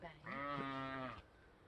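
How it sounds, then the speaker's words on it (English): A single sheep bleats once near a log greenhouse, a clear, wavering cry lasting about a second, close and fairly loud against a quiet background. "That's the sheep there."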